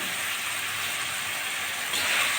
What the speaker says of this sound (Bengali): কেটে ধুয়ে রাখা আলুগুলো প্রথমে আমি একটু ভেজে নেব